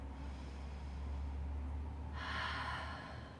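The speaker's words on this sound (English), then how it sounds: "One more breath." A deep breath drawn during a guided yoga breathing exercise, a steady airy inhale that swells into a louder, breathier rush near the end, heard close and alone.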